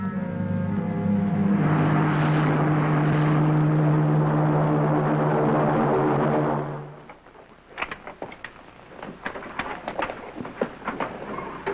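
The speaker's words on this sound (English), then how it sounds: "The spaceship blasts off from the enemy planet Regalio and is approaching Herculon for a landing." A 1950s science-fiction spaceship engine roars as it approaches for a landing, a loud sustained droning hum that cuts off after about seven seconds, leaving scattered clatter and crackling.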